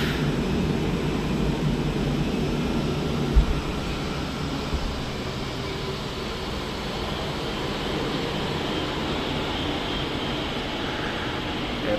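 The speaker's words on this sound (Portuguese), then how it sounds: "Aeronave" Large jet aircraft at a Guarulhos airport gate as it arrives and docks at the jet bridge: a steady, loud airy whine and rumble of engines and ground equipment hold throughout, with a single soft thump partway and faint background voices.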